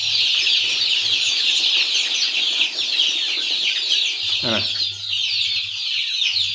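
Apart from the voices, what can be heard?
40-day-old chicks clucking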